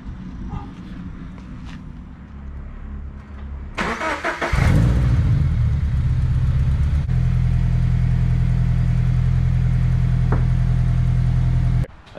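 A stock Toyota FRS engine cranks and starts, settling into a steady, loud idle that holds for several seconds before cutting off abruptly, with faint movement noises before the start.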